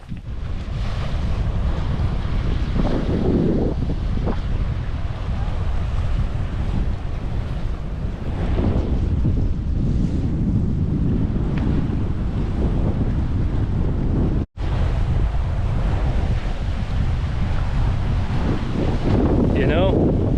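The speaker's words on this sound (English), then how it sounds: "It's a little windy, but that's okay." Strong wind gusts buffet the microphone on an island coast at Kudaka, a steady loud roar with surf beneath that continues throughout, broken by one brief dropout partway through.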